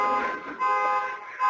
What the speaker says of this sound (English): Not sure what point to make about that car alarm.